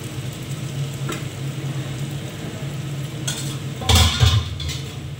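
Ginger-cumin spice paste hits hot oil for a masala curry of small tangra fish and sizzles steadily and close, with a couple of scraping stirs of the pan near the end.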